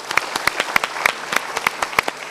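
A small audience at a talk show claps briefly: a few distinct, fairly close hand claps in an uneven rhythm, loose rather than a full ovation.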